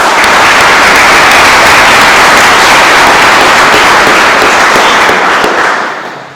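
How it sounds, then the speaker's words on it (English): Loud, dense audience applause at a community foundation spring grants event, a thick continuous roar of clapping that holds steady and close before tapering off at the very end. "Please join me with a round of applause to thank those organizations."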